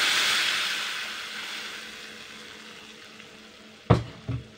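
Ground chutney paste hits hot groundnut oil tempered with asafoetida and curry leaves, giving a loud hiss that slowly fades to a quieter simmer, followed by two sharp knocks near the end.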